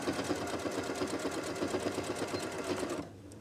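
A sewing machine runs steadily at close range, stitching a zipper onto a fabric boxed pencil case with a fast, even mechanical chatter that stops abruptly near the end.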